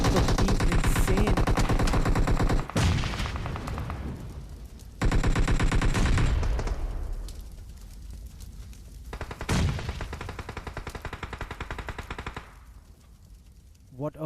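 Rapid bursts of automatic gunfire in a PUBG scrim match, including a suppressed Scar L, with loud rattling volleys separated by short pauses and single sharp shots, under game commentary.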